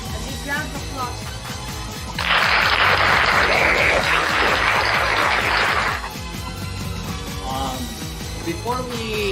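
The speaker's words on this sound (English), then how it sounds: "A big round of applause" Audience applause at a virtual school competition event, a sustained burst of clapping for about four seconds that rises sharply and stops, with a voice speaking before and after.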